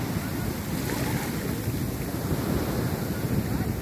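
Rough sea surf breaking continuously at a Sri Lanka beach, a loud, steady roar of churning waves with strong wind noise across the microphone and no clear speech.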